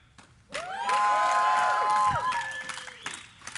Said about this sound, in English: let me hear you guys in the crowd